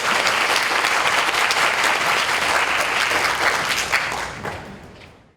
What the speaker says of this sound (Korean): 저희 경학 교수님을 큰 박수로 맞이해 주시겠습니다